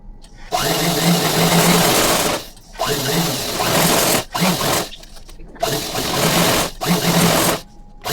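A sewing machine stitches a coat collar in several loud bursts of rapid, rattling needle action, each run lasting a second or two and separated by brief silent pauses.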